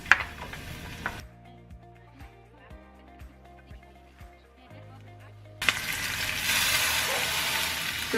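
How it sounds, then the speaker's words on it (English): An onion dropped into a hot pan over high heat bursts into a loud, sustained sizzle that lasts to the end, following a quiet stretch of tonal notes and light taps. "Okay, I'm gonna put the onion in there."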